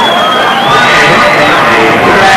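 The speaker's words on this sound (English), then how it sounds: "The crowds are getting into it." Crowd cheering and shouting at a 1992 high school football game between Cecilia and Jennings, a loud, dense roar that rises and holds steady throughout, with some voices audible within it.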